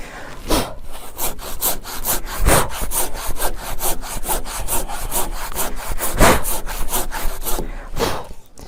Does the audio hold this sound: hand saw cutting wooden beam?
yes